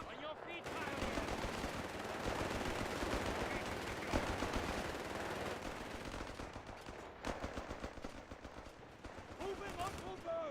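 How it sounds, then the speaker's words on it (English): Rapid MG42 machine gun fire in the WWII strategy game Company of Heroes 3, sustained bursts with distant gunfire layered under battlefield noise and soldiers' voice lines. "MG42 moving under fire."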